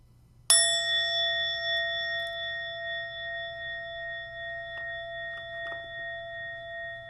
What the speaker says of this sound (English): We'll finish with one bell, and as that bell begins, take 3 deep breaths